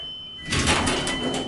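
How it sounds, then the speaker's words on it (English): A hydraulic ESCO elevator door slides open in a basic cab, a broad whooshing rumble that swells abruptly and carries on steadily at close range over a faint tonal hum. "Push the door open."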